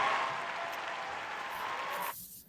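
A small audience at a podcast recording breaks into applause, a steady close patter of clapping that cuts off abruptly near the end.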